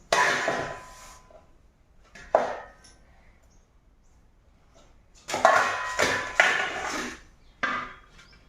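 Cooked Telangana sarva pindi being turned out of a vessel into a metal bowl, heard as a few sharp clanks and knocks with scraping between bursts, close by and fairly loud, separated by quiet gaps.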